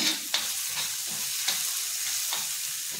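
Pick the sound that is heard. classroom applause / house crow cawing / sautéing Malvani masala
sautéing Malvani masala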